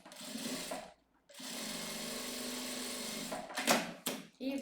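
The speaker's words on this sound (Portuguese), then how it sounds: "Passar uma costurinha pra juntar, frente com frente" A sewing machine stitches fabric pieces together face to face, running in a steady fast whirring burst, pausing briefly, then running long again before ending in short stop-start bursts.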